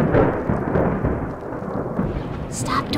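Thunder rumbles during a rainstorm, a loud low roll over steady rain hiss, with a brighter crackle near the end.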